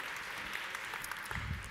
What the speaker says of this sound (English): Applause for hats, thank you.